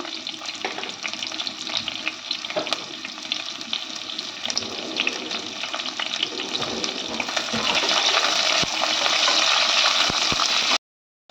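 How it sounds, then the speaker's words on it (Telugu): Onions for biryani fry in a pan with a steady, loud sizzle and crackle that intensifies near the end before cutting off abruptly, with occasional stirring knocks. "ఇక్కడ ఆనియన్స్ ఫ్రై అయిపోయినాయండి"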